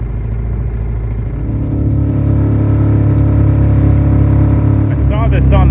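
A shanty boat's engine runs nearby with a rough, uneven drone that swells louder partway through, along with a brief higher whine near the end.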